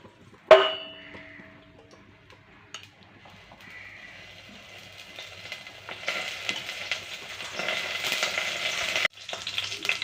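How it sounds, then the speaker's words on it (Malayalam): A metallic clink, then homemade ghee in a hot pan gives a soft sizzle that builds into loud, steady crackling frying, cut briefly near the end before resuming. "ചരുവം ചൂടായിട്ടുണ്ട് നമുക്കതിലേക്ക് കുറച്ച് നെയ്യ് ഒഴിച്ചു കൊടുക്കാം"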